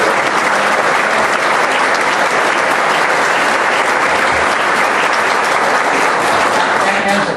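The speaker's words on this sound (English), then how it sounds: "Give her a round of applause." A large rally audience applauds the candidate's wife Laura with loud, dense, steady clapping and crowd noise that fills the whole stretch without letup.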